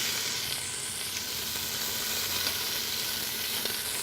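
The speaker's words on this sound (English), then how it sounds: "we're gonna get these pieces in here to begin to sear" Turkey pieces searing in hot oil in a stock pot, a loud steady sizzle and hiss that fills the whole moment, with faint movement beneath.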